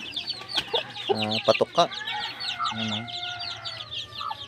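Backyard chickens and ducks cluck and chatter close by in a rural yard, overlapping calls with a brief crowing note, while someone speaks briefly over them.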